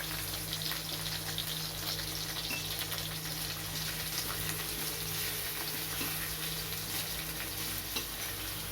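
Grated ginger and garlic fry in oil alongside nigella seeds and tomato, giving a steady, even sizzle with a faint hiss that holds without a break and has no voices over it.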